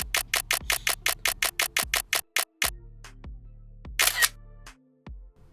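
A phone camera shutter is fired through the record button of a DJI Osmo Mobile 6 gimbal, making a rapid burst of about fifteen crisp clicks, then several slower single shutter sounds and a short whooshing tone, close and loud.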